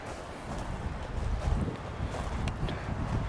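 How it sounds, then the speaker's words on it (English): Wind gusts through a mountain forest beside a trail with fallen trees, a rough blustery rumble that rises and falls steadily. It stays loud and close on the microphone, and faint rustles sit on top of it. "You can hear the wind."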